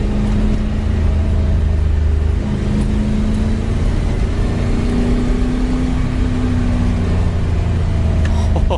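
A V8-powered MGB GT classic sports car drives along a road, its engine giving a steady, continuous drone with a slight rise in pitch midway, heard close from inside the car without speech.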